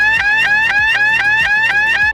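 A loud electronic alarm siren repeating a rapid rising whoop, about eight identical cycles in steady rhythm, with nothing else audible.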